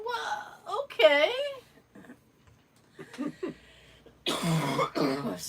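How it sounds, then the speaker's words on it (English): Several hoarse coughs burst out close by at the start and again near the end, with quieter throat sounds and a few faint breaths in between. "Still coughing."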